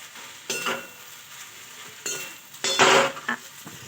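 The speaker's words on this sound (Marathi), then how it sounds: "तुम्ही चिली, टोमॅटो केचप. आता याला मिक्स करून घ्यायचं." Noodles stirred in a pan with chili and tomato ketchup, a few separate bursts of scraping and clinking near the mic, the loudest toward the end, with quiet gaps between and no talk.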